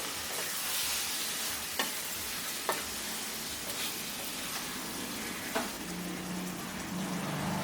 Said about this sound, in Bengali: মশলার সাথে মিশিয়ে নিচ্ছি